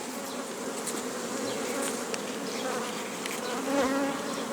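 Honeybees around a linden tree hum continuously in a dense, steady drone, many buzzing together nearby, with a single louder one passing close near the end.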